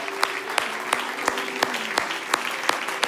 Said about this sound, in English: Let's give him a hand clap of praise.